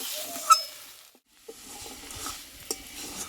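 Potato and long bean curry stirred in a frying pan, a quiet sizzle with a few sharp scrapes and taps of the spoon, close and brief.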